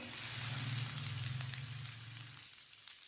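Onions that have turned lightly brown fry in a pan for a kebab dish, giving a steady, close sizzle and crackle with no voices over it.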